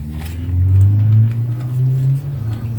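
A Marcos slot car fitted with lightweight rear wheels runs on a track, a close, steady motor whine and rumble rising and falling slightly as it laps.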